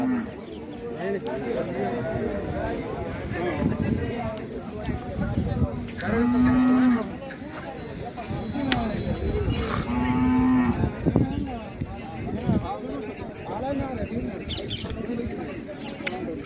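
Bulls mooing at the Hirapur bullock market in Beed, with two short, deep lows close by under steady talk and crowd noise.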